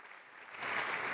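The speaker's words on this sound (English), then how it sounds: "In our different chambers, we'd love to have such applause now." Applause from a crowd at Notre Dame Cathedral in Paris, a brief burst of clapping that swells louder in the second half, with no voices.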